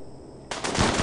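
A sudden loud burst of automatic gunfire from a RimWorld colony defense, starting after a quiet moment and continuing as dense rapid shots.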